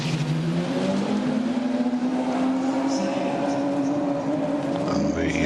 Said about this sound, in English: Car fired up,